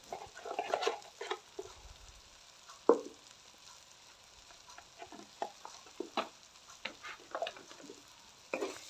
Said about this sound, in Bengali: মশলাটা ভালো করে কষিয়ে নিলাম।